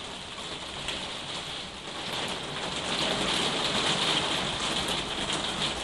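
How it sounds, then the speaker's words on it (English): Steady rain pours down in a dense, hissing wash that grows slightly heavier partway through, with no voices. "It's starting to rain, I hope you can hear me okay."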